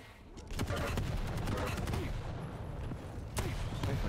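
Heavy machine gun fire in a competitive video game match, with rapid dense bursts of shots continuing almost without pause at a steady loud level.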